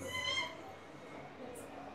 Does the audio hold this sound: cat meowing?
yes